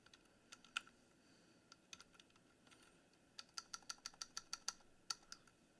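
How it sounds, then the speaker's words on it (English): Someone types on a computer keyboard, first in scattered, irregular keystrokes and then in a quicker run of clicks. The sound is faint and close by, with no talking. "You suck at typing, DC."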